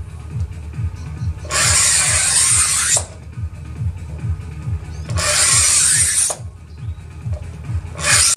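A hard acrylic sheet is cut with a saw in two loud, harsh rasping bursts of about a second and a half each, with a third one starting at the end, over a low rhythmic mechanical rumble running throughout.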